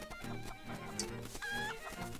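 A chicken clucking in a video game, short repeated clucks mixed into a busy game soundtrack with tonal music and effects.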